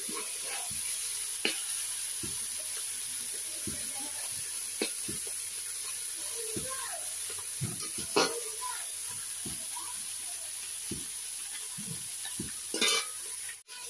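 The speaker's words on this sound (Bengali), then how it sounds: "মাছ ভাজা হয়ে গেল এগুলো" Fish fries in a pan with a constant hissing sizzle, marked by scattered clicks and scrapes and a few faint voices in the background.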